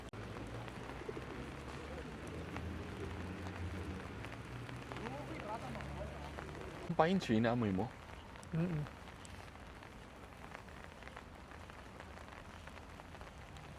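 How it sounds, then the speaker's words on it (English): Light drizzle falls outdoors on a rainy day in Almaty, Kazakhstan, a steady soft hiss of rain that runs under occasional talk, with a brief louder voice burst partway through. "Buti na lang nakakapaglakad na umuulan, na hindi malakas. Drizzling lang."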